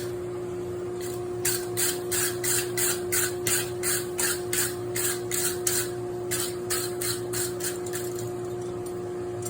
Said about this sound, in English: And the wire brush knocks off the